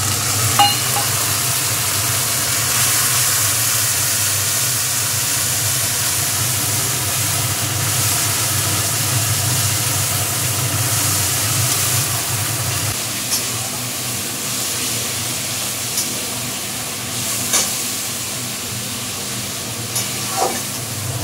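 Spice paste cooking down in a pan with salt, turmeric and spice-rinsing water for an oil-rich koi fish curry, giving a steady close sizzle with stirring scrapes and a low bubbling hiss, loud and continuous without talk.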